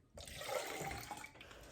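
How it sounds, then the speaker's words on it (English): A cup of water is poured into a crockpot for a dinner meal, making a faint, brief splashing pour of just over a second that starts abruptly and tapers off, with no one talking. "I'm gonna put some water in there. I just got a cup of water."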